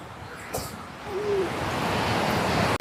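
Waterfall near a house on a tea plantation, a steady loud rush of falling water that swells slightly and continues without pause.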